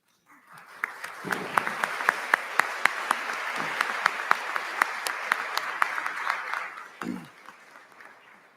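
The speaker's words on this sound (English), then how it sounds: "we ask that you stand so we can give a round of applause for you as well" Sustained audience applause at a 2022 commencement ceremony honoring standing Board of Trustees members, a dense wash of many hands clapping that swells, holds for several seconds with a few sharp individual claps standing out, then tapers off.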